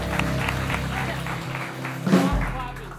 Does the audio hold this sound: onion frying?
no